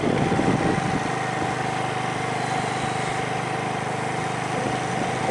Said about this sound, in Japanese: ちょっとゆっくりバイクでね登っていこうと思います。